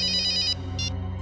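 A telephone rings with a bright electronic trill, one burst followed by a shorter second burst, close and clear over a low steady hum.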